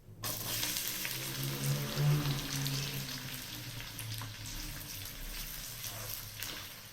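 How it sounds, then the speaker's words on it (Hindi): Onions frying in cooking oil over a medium flame for spinach chicken, a steady close sizzle and crackle that runs evenly throughout with no voices. "प्याज को फ्राई करेंगे। फ्लेम को मीडियम रखेंगे"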